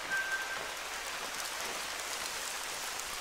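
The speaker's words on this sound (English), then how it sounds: "I'm sorry for the rain, but I cannot stop it." Rain falling in the video game theHunter: Call of the Wild, a soft, steady hiss of drops on the ground, even and uninterrupted throughout, fairly quiet with no voices.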